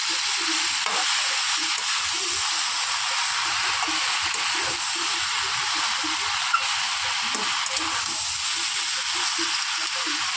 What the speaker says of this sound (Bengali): আমি একটু ভালো করে মিশিয়ে নিই শাকের সাথে সবজিগুলোকে